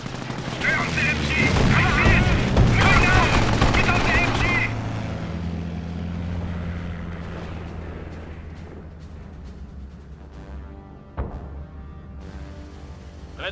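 Rapid machine gun bursts in the Company of Heroes war game, loud and dense at first, then fading into distant rumbling battle noise and a sharp crack near the end, with game voices talking over it.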